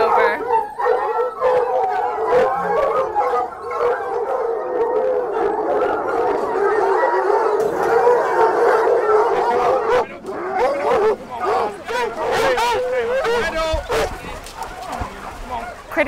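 A full pack of hunting hounds at a British trail hunt bays, barks and howls together in a continuous loud chorus, close by, with sharper yelps and barks growing busier toward the end.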